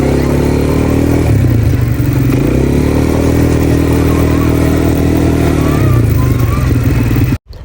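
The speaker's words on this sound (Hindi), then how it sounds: "मैं चला रही हूँ बाइक" A dune buggy engine drones loudly and close while driving across the Dubai desert. It rises and falls in pitch as the speed changes, rattles over rough ground, and cuts off abruptly at the end.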